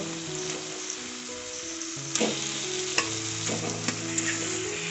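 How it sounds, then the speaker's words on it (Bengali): Cauliflower and fried potatoes stir-fried in spice masala, a steady oily sizzle with several distinct spatula scrapes and clanks, close by and moderately quiet, no speech. "ভেজে রাখা ফুলকপি আর আলুগুলো সব মশলার সাথে খুব ভালোভাবে একটু কষিয়ে নেবো"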